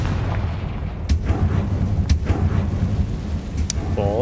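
Confringo blasting spell from Hogwarts Legacy going off, a few deep booms and sharp cracks spaced about a second apart over a low rumbling backdrop, with voices in the mix.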